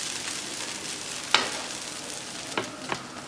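A dosa sizzling on a hot griddle, giving a steady soft frying hiss throughout, with a few brief sharp clinks and scrapes of a utensil against the pan.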